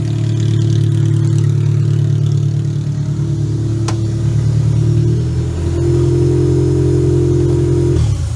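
A repaired Toyota Camry engine runs steadily close by, a loud continuous idle with a shift in pitch near the middle as it settles into a slightly different rhythm, then it cuts off abruptly at the end.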